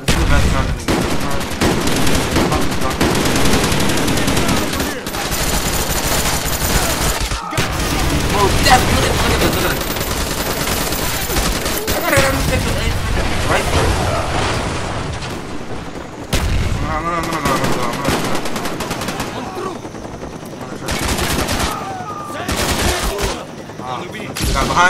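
Rapid automatic gunfire blazes in Call of Duty Black Ops multiplayer, with bursts, booms and overlapping shots running loud and nearly continuous, plus brief gaps and faint game voices.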